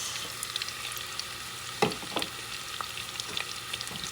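Onions, pepper and Roma tomatoes sizzle steadily in a hot pan for a bison meat sauce, a soft continuous frying hiss with faint stirring clicks and scrapes, close and without voices.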